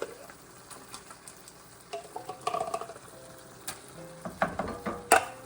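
Massaman chicken curry with coconut sizzling and frying in a pan, soft steady crackle broken by intermittent stirring scrapes and clinks, close and fairly quiet.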